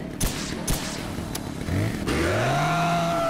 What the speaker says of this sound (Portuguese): Desliga essa moto.